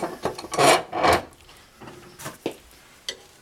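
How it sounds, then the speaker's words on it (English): A hand file is drawn across a lawnmower blade in short, raspy strokes, a few close scrapes in quick succession followed by quieter, spaced rubs. "Keep the file flat."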